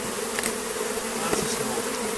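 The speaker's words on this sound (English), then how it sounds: "Push those bees down." Honey bees buzz in a dense, steady drone at an opened hive during a check of the super colony, close and continuous with light handling clicks.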